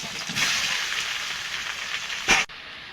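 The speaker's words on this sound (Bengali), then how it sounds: "কচু সেদ্ধ করে নিয়েছি, এটা দিয়ে দেব।" Boiled taro goes into hot oil in a wok after fish frying, giving a steady bright sizzle with a sharp louder burst near the end before it cuts off.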